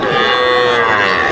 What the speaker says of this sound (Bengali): আমি এই মুহূর্তে রয়েছি কিন্তু বাছুর হাটে, প্রচুর পরিমাণে বাছুর রয়েছে।